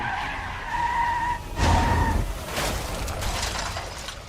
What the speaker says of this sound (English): As the suspect's vehicle whips onto 126th Street, its driver loses control.